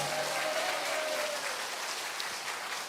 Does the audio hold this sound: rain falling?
no